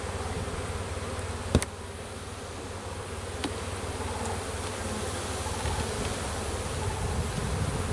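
Honeybees hum in a dense, steady drone during a spring hive inspection, the buzz filling the air continuously with a couple of sharp clicks of equipment early on.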